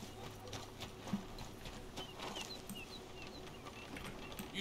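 A horse in Red Dead Redemption 2 clops along at moderate volume, its hoof beats soft and fairly regular, with faint bird-like chirps in the background and no clear whinny.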